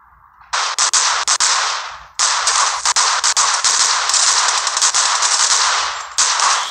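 Loud machine-gun fire in the mobile shooter Rules of Survival, long rapid bursts broken by short pauses, close and dominant, no speech.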